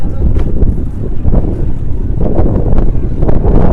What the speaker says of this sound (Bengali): হাওয়া দিচ্ছে, কিন্তু প্রচুর পরিমাণে হাওয়া দিচ্ছে